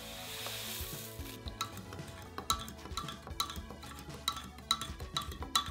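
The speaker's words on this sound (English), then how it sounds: "Now let's add the blue Jell-O powder in here, using 6 ounces. Mix it up." Blue Jell-O powder is stirred into liquid, a spoon scraping and clinking against the container in quick, uneven taps, close and fairly soft, with no talking.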